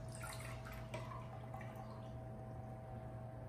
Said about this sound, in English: First, the tomatoes clean with the tap water.